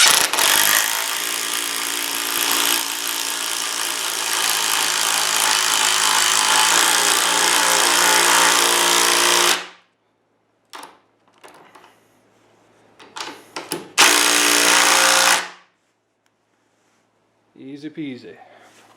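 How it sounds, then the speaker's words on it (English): An impact driver drives a lag bolt into wood during a chicken coop build, one long loud, buzzing hammering burst, then after a pause some clattering and a second short burst, with a voice briefly heard near the end. "Take our lag bolt, line it up, and impact it in, nice and easy."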